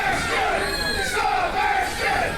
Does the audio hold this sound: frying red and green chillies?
no